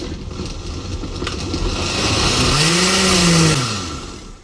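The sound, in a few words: blender blending pumpkin and water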